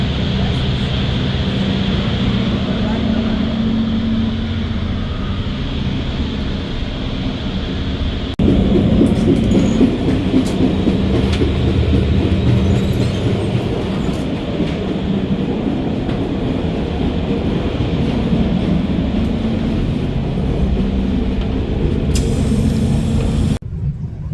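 Steady clatter and rumble of the Doğu Ekspresi passenger train running on rails toward Kars, heard from inside the carriage, continuous and loud, with a shift in intensity partway through.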